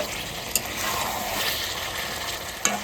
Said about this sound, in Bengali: তাহলে তুমি কষাতে থাকো